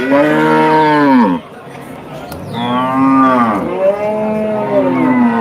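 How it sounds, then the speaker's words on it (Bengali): Crossbred cattle at a cattle market in Dhaka moo loudly and close by, one long low call followed by two more drawn-out moos, with faint background chatter. "এই পাশে সার গরু সবগুলি সার গরু ক্রস জাতীয়"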